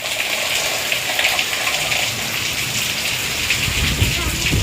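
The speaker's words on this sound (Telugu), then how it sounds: "వర్షం కూడా యాడ్ అయిపోయింది." Heavy rain driven by strong gusting wind roars as a dense, continuous hiss, loud and close throughout with no pauses and no one talking.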